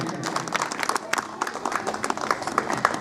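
At a primary school annual fete, an audience applauds the executive members honoured for founding the school, mid-distance clapping scattered with a few sharp hand claps and voices underneath.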